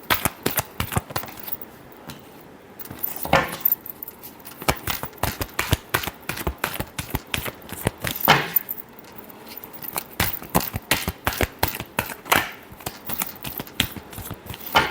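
Tarot cards being shuffled by hand, a rapid run of crisp riffling flicks and soft slaps with brief pauses between bursts, close and fairly loud, with no talking.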